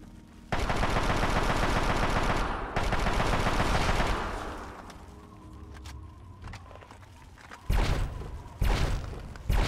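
Rapid automatic gunfire from a gun in Fallout 3, loud sustained bursts of repeated shots with pauses between volleys and a few shorter bursts near the end, no voices.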